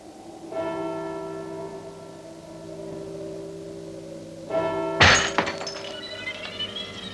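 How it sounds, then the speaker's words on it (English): Glass breaking indoors at night, a sudden sharp crash with scattering fragments, loud and close, following a deep ringing bell tone that rises twice and lingers beneath the shatter. "That was glass breaking, Fritz."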